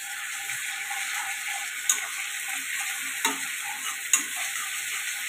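Garlic going into onions already frying in oil in a kadai for a simple home biryani, giving a steady soft sizzle with a few sharp clicks of stirring, fairly quiet and close, with no talk.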